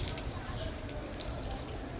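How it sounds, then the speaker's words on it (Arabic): Rinse water runs and patters steadily off a freshly washed prayer rug, a continuous close splashing trickle with a couple of faint drips. "الميه اللي نازله منها ميه نازله رايقه خالص"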